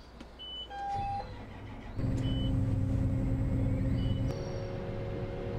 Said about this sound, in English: It gives you the beep beep, and then kind of a low hum as the combine engine starts up